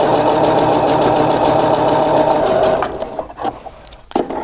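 A PFAFF passport 2.0 sewing machine hums through a steady run of fast stitching along a quarter-inch quilt seam, then stops and leaves a few soft handling clicks and bumps.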